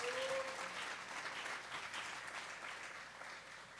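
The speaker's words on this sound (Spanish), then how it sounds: "Le vamos a dar un fuerte aplauso al Espíritu Santo esta tarde." A church congregation claps during a sermon, giving a loud, sustained round of applause that carries evenly throughout, with a faint tone at the start.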